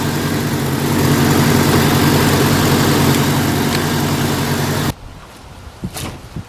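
A 1992 Jeep Cherokee engine idling with its fan and belt spinning after an alternator replacement, a loud steady mechanical drone heard close up that cuts off abruptly near the end, leaving a few faint clicks and knocks.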